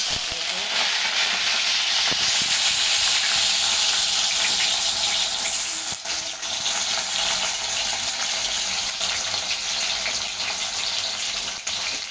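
Potato slices, first soaked in water, fry in hot oil in a pan, making a continuous loud hissing sizzle with small crackles that holds steady throughout.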